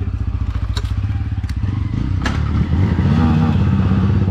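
A Yamaha MT-15 motorcycle fitted with an Akrapovic exhaust idles with a throbbing, pulsing beat, then revs and pulls away on a city ride, growing steadily louder and rougher toward the end.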